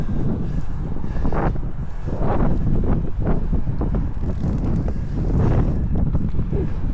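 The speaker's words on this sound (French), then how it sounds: "là je suis face au vent, je te le sens" Gusty headwind while mountain biking buffets the microphone in loud, uneven rumbling bursts, with faint background noise and no speech.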